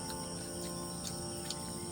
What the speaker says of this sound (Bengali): কেমন সুন্দর সন্ধ্যার সময় ঝিঝি পোকা ডাকছে